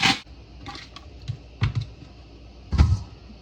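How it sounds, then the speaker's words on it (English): A knife slices sausage for a seafood boil, giving a few sharp, separate taps against a cutting board with quiet gaps between them. "I'm going to cut up the sausage."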